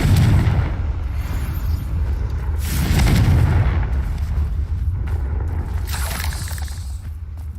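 Confringo spell explosions in Hogwarts Legacy give loud, rumbling booms with crackling debris, swelling repeatedly over a dense, continuous roar of game combat.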